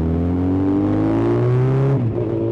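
A Honda CB1000R motorcycle accelerates hard, its engine note climbing smoothly for about two seconds before dropping abruptly as the rider shifts, loud and close.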